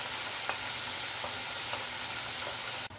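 Garlic and ginger powder sizzling in two spoons of cooking oil in a pan, a steady close frying hiss with a few faint clicks, cutting off abruptly near the end.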